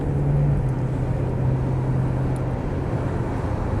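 Porsche 928S driving onto a motorway, giving a steady, loud, low engine and road drone with a faint tonal hum inside the cabin and no voices.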